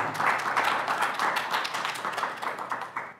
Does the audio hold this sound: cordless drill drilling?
no